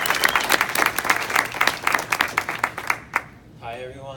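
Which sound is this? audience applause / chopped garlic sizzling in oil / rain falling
audience applause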